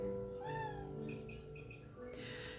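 A pet cat meows indoors, several drawn-out, rising and falling calls close to the microphone, followed by a brief rustle or movement noise, with no talking over them.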